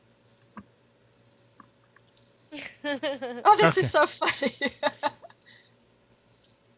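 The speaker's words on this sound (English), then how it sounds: "Does anybody know where that beeping is coming?" Repeating electronic alarm beeps in short bursts of several pulses with gaps, sounding near and steady, while someone talks and laughs over the middle stretch.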